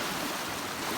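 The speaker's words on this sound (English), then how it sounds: "So we're here at Whitewater River having a snack. This is the first legit river that we've really seen." Whitewater River rushes steadily nearby as a dense, unbroken broadband hiss that stays loud and even throughout the second, with no voices.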